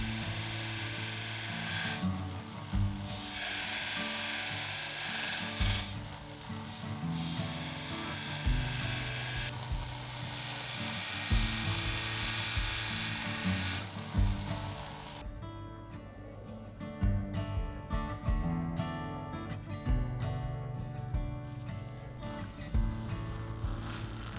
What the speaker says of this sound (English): I'm going over to my 1x30 grinder and just getting that initial shape in